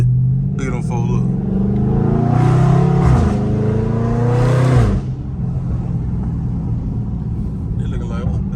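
A Dodge Scat Pack muscle car driving through a neighborhood gives a loud, close engine rumble that swells into a rev over several seconds, then drops back to a steady idle growl as someone talks over it.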